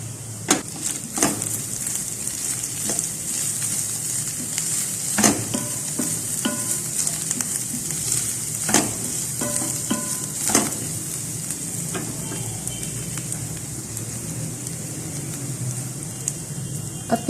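Onions and spices (red chilli powder, black pepper, salt) sizzle steadily while being sautéed on medium flame for fajita chicken filling, with a continuous hiss broken by occasional scraping stirs and clinks of a utensil against the pan.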